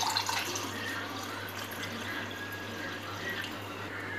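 A homemade jeera-neem cool drink is poured into a glass, giving a continuous close splashing liquid stream that holds steady for about four seconds, with no voices.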